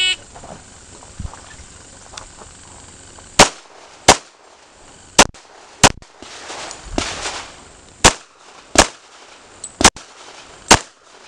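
Sharp, loud pistol shots during an IDPA practical shooting stage at an outdoor range, about ten reports in uneven pairs and singles with short gaps, plus faint movement and handling noise in between.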